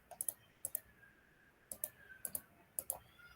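Sharp mouse clicks in a Python Tic Tac Toe game come in quick pairs, five double-clicks spread across a quiet room background.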